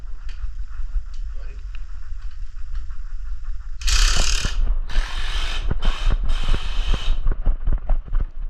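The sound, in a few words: tightening lock nut on Grasshopper mower wheel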